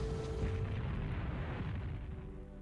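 A torpedo strikes a ship in a World War II naval battle game set at the Marianas, a loud sustained booming rumble with crackling debris that fills the whole moment without voices.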